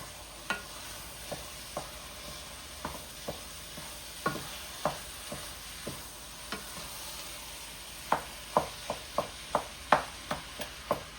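Ground meat sizzles in a pan while a spatula strikes and scrapes it in a quickening series of crisp knocks, close and fairly quiet with no talk.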